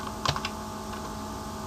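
A computer keyboard gives a few quick, light keystrokes near the start, then a steady low background hum with no further typing or talking.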